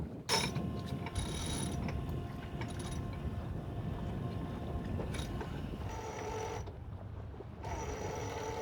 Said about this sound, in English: Now what we'll do is we'll put out the Genoa.